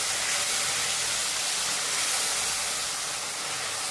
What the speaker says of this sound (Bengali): ভেজে নিয়ে এই কাঁচা গন্ধটা একটু চলে যাবে